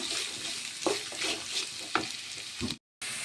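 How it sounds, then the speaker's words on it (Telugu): Green chillies and onions fry in a pan with cinnamon and bay leaf for egg fried rice, a steady close sizzle broken by a few scraping stirs and a brief silent gap near the end. "ఫ్రై అయ్యాక ఉల్లిపాయ, పచ్చిమిర్చి, పచ్చిమిర్చి ఫ్రై చేసుకుందాం."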